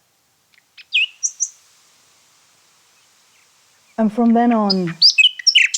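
Small birds chirp in a few brief, sharp tweets as a story sound effect, followed by a narrator speaking, with more chirps overlapping the end of the voice.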